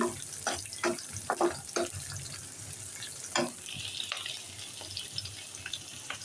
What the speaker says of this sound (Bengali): কাঁচা মরিচ ছিঁড়ে রেখেছি আমি দিয়ে দিচ্ছি এগুলো ভেজে নিচ্ছি